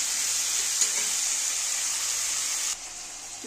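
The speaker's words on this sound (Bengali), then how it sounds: "এবার আমি বটবটি আলুগুলো ভেজে নেবো।" Borboti beans and potatoes fry in hot oil in a pan, giving a steady, close, bright sizzle with a few soft stirring clicks. The sizzle drops a little near the end.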